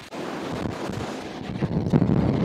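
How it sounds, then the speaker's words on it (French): Steady wind buffeting the microphone over the rush and slap of waves aboard a sailboat off the Turkish coast, a constant roar swelling slightly toward the end. "le vent est bien établi, la mer commence à se former un petit peu"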